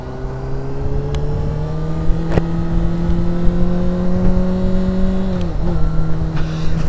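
A 2009 Honda CBR 600RR motorcycle engine pulls hard and steadily, its tone holding under continuous wind and road roar before a brief dip near the end, heard from the rider's position on a highway.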